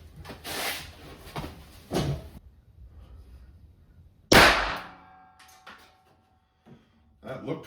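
A .25 caliber round loaded with a Hornady 35-grain XTP bullet is fired into a gel block. A single sharp, loud report lands about midway through, with a short ringing decay and quiet, scattered handling clatter around it.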